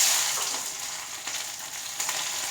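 Small onions fry in hot coconut oil for a soursop curry, giving a brief, close, steady sizzle with a few faint stirring touches and no voices.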